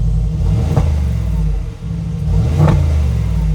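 Mercedes G-Class engine revving in two quick bursts over a low, steady idle rumble, close up, with faint voices around.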